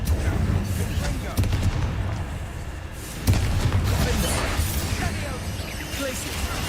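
Confringo fire spell blasts in Hogwarts Legacy, several loud explosive bursts around one, one and a half and three seconds amid a continuous busy roar of combat effects, with a voice talking underneath.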